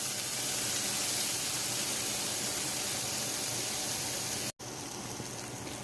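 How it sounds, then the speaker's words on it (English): Corn and onions searing in a hot pan give off a steady, loud broadband sizzle that runs unbroken and cuts out for a split second near the end. "I'm going to stir it in and just let it sit there and see if I can get a little bit of a sear on the corn"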